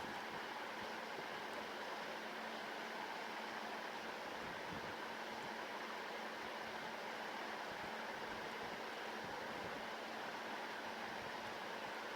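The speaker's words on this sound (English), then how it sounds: "I'm trying to hurry up and get them in before the waves get too bad again." Surf washing against the shore, steady broadband roar of breaking waves heard while fishing, fairly quiet and continuous with no voices.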